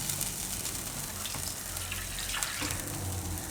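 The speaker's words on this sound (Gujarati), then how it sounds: "અને આપણે થોડુંક પાણી નાખીશું એમાં," Water is poured into a cooking okra gravy, producing a steady, soft rushing and gushing splash throughout. No one speaks.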